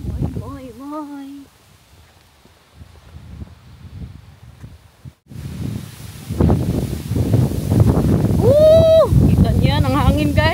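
Wind roars into the microphone during a bike ride through a neighborhood, gusting louder in the second half, with voices talking over it.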